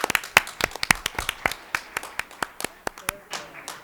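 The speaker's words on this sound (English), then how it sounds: "Another round of applause." Applause at a school district governing board meeting, a small group clapping with individual hand claps clearly separated, thinning out and slowing over a few seconds.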